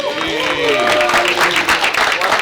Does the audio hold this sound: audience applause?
yes